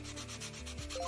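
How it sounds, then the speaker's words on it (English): Wood is sanded on a doll house in a toy-restoration video game, with quick, rhythmic rubbing strokes that are close and moderately quiet, and no voices. "I'm sanding away. Sanding away."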